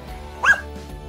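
A single short, high yip from a dog, close and moderately loud, standing alone against quiet room tone.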